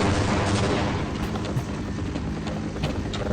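A grenade blast in Half-Life erupts into a loud, sustained roar of rumbling noise, with gunfire-like crackle layered over it and no voices.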